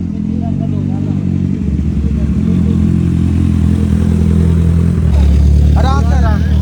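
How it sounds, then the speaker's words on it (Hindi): A Kawasaki Z1000 motorcycle runs close by with a steady, loud mid-pitched engine drone that lifts slightly near the end, while people talk over it. "सर चला रहे हैं इधर बाइक"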